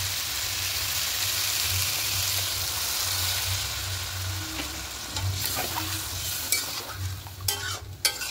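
Water poured into a hot pan of frying potato and okra, a steady low sizzle and stirring that breaks into sharper hissing and clatter near the end.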